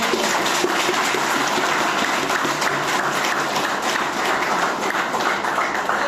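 Dense, continuous applause from a meeting audience at a Vestige gathering in Atmakur, a steady wash of many hands clapping at even loudness throughout with no clear pauses.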